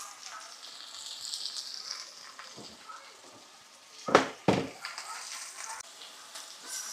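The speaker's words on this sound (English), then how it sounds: "Now I'm adding in garlic. I'm gonna let that fry up good" Garlic fries in a hot pan as a steady, soft sizzle, with two sharper clattering bursts about two-thirds of the way through as it gets stirred.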